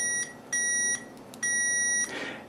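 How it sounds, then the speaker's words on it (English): A multimeter set to continuity buzzes while testing the insulation of an amplifier's mica washer, giving three steady electronic beeps of about half a second each with short gaps, clear and close. "I've got the test meter set to buzz."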